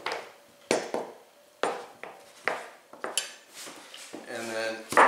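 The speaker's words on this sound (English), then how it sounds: "you can stack two of these at a time and just cut slabs into strips" A knife cutting stacked slabs of butternut squash into strips, with a series of close, sharp chops striking the board at an uneven pace, each followed by a short ringing tail.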